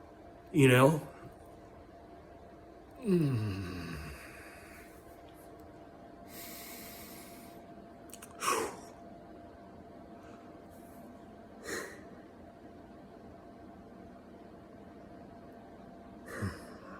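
A person breathing deeply to cope with anxiety takes a few loud, slow breaths in and out, with quieter breaths spread across a quiet room and long pauses between them.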